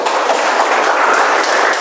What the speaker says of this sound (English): let's give a big round of applause for Pawan again